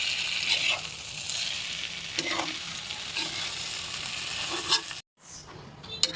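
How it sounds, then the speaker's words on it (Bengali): Roti strips cut like noodles fried and stirred in a pan for a simple Chinese-style dish, a steady close sizzle with occasional scraping stir strokes and a brief dropout near the end. "ভালো করে নেড়ে চেড়ে দিচ্ছি"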